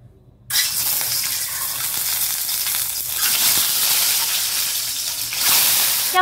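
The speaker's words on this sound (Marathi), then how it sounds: "तेल गरम झालेलं आहे, त्यात आपण सोडणार आहोत अंडे फ्राय करायला घेणार आहोत आपण" Eggs frying in hot oil in a kadhai on a gas stove, a loud steady sizzle that bursts in abruptly after a quiet start and crackles continuously with no talk.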